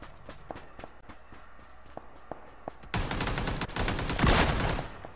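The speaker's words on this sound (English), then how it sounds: "Who's using a machine gun?" Machine gun fire in PUBG: scattered single shots and footsteps at first, then a dense, loud burst of rapid automatic gunfire for the last two seconds.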